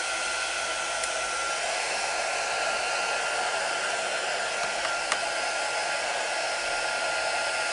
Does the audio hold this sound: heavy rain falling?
no